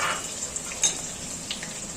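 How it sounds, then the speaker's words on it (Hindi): Sliced onions sizzle in hot oil with whole spices in a kadhai while chicken masala cooks, giving a faint, steady frying hiss with a couple of light utensil clinks. "तेल हमारा अच्छे से गर्म हो गया है, इसमें सारे खड़े मसाले भी पक गए हैं। अब हम इसमें डाल रहे हैं प्याज।"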